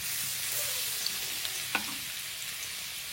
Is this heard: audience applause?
no